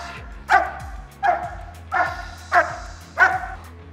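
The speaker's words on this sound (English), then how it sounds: "We want to see a dog when it's time to bark, he barks." A protection dog gives five loud, sharp barks on command at a training session, evenly spaced about two-thirds of a second apart, close by.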